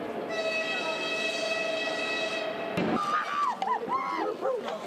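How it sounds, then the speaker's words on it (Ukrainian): A train pulls into a Lviv station, its horn sounding a long sustained multi-tone blast before cutting off, followed by a crowd's voices and chatter on the platform. "І ось довгоочікувана мить прибуває поїзд."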